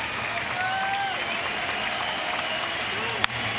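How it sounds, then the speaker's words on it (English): A baseball stadium crowd cheers and applauds steadily during a complete-game shutout against the Chicago White Sox. The noise stays fairly distant and continuous while a voice talks over it. "Cheering on his teammate."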